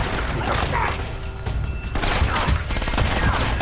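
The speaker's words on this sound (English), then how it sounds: "why is everybody shooting at me?" Dense bursts of enemy gunfire in the video game Uncharted: Drake's Fortune Remastered, loud, continuous volleys with mechanical clatter throughout.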